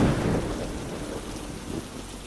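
Heavy rain pours with a low rumble of thunder, a thick, steady downpour that is loudest at the start and then settles into an even wash, with no voices present.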